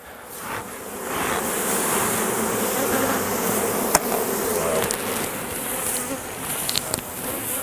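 Dense, steady buzzing of many honey bees swarming close by, a constant droning hum with no pauses.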